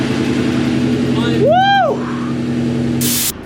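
A BMW E39 M5 V8 engine runs steadily, a low continuous hum with a brief rising whine in the middle and a short hiss near the end, heard up close.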